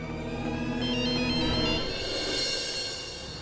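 A telephone rings steadily and unanswered, its electronic ringtone repeating at a constant level across the whole stretch with no one picking up.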